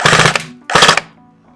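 An airsoft gun fires on full auto at an indoor shooting house, two loud, close bursts of rapid mechanical shots, each lasting about a third of a second, separated by a brief pause.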